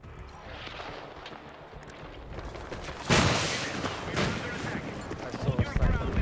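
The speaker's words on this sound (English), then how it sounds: "This LMG is crazy good, bro." Gunfire from a light machine gun in a Counter-Strike match, a steady rattle of shots under game noise that turns into a louder, denser burst partway through, with a voice talking over it.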